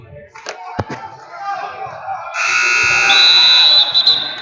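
Buzzer sounding at a high school wrestling dual meet championship, a loud sustained electronic tone cutting in over crowd noise and scattered claps and slaps.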